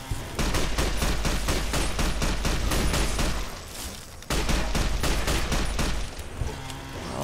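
Rapid gunfire in Fallout New Vegas, loud automatic bursts firing close and almost without a break, with a brief pause midway before the shooting resumes.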